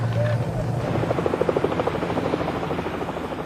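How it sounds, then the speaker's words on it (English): Police helicopter rotor chopping steadily overhead while searching a park, a rhythmic thudding beat that stays loud throughout with a low engine drone beneath. "helicopter, call sign India 99, uses a heat-seeking camera to search the park for the fleeing car thieves"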